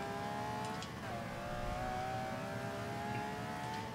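Ferrari GTO engine in Forza 5 downshifting to first gear, with a steady droning whine that dips around one second, then settles and keeps humming close and loud throughout.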